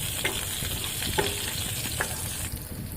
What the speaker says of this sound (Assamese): আপোনালোকে দেখিবলৈ পাইছে পিঁয়াজখিনি আমি লাৰি দিছোঁ যেতিয়ালৈকে পিঁয়াজখিনি গোল্ডেন ব্ৰাউন নহয়।